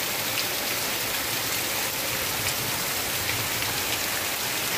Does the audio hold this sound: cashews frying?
no